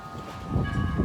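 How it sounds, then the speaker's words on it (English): Wind chimes at a house ring softly with steady, lingering metallic tones over a low rumble of gusting wind outdoors on a windy day before a storm. "Doing wind chimes at our house on a windy day."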